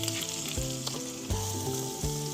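Food frying in a pan as the first layer cooks down, a steady close sizzle with faint stirring and scraping over a background of musical tones, no talking.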